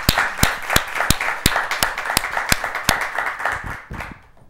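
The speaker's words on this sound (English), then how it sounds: "I gotta clap on that." A single person claps hands about ten times in a steady, sharp rhythm, each clap loud and close, and the claps stop just before the end.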